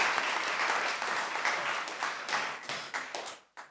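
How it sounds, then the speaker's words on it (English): An audience at a conference's opening remarks gives a round of applause, dense clapping that tapers off and stops near the end. "So please give them a round of applause"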